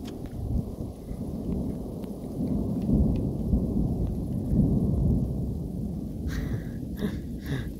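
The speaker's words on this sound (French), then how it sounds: "Je viens de voir un sacré éclair. Je pense que ça va pas tarder à gronder." Thunder rumbling through a thunderstorm heard from a van, a long deep continuous roll with swelling peaks, rain pattering steadily underneath and a few sharper crackles near the end.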